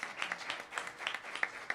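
Light, scattered audience clapping at a workplace conference session, sparse individual claps at moderate distance, fairly quiet.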